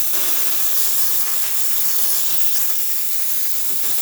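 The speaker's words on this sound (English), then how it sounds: "Let's test the steam one first." Steady, loud steam hiss from a Lelit Bianco espresso machine's wand after a full tune-up, continuous and unbroken throughout.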